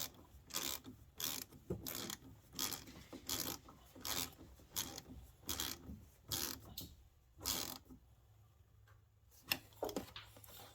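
Hand ratchet tightening a battery sensor bolt on a Jeep Cherokee KL, giving rapid bursts of close metallic clicking in a steady rhythm, pausing near the end before a final few clicks.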